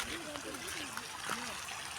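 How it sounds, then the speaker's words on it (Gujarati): Rainwater rushing through a farm field channel after heavy monsoon rain, a steady close gurgling and trickling flow throughout. "કેટલું પાણી જાય છે."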